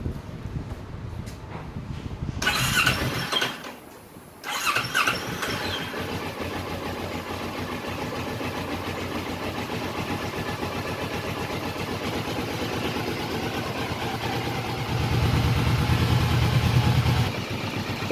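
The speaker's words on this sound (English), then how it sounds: "we will have to now start the engine and let it run for 20 minutes" A car engine cranking and catching during an engine flush and oil change, then settling into a steady idle hum that runs on, growing slightly louder toward the end.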